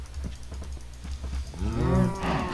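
Cow mooing in the Minecraft video game, a loud, close, drawn-out moo that rises near the end, heard alone after a few soft rhythmic clicks.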